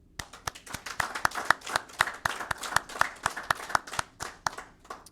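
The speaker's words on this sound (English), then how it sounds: "I think you guys owe yourself a round of applause." Small group clapping for a graduating class at a graduation ceremony, sharp individual claps in a steady, fairly close rhythm throughout with no talking.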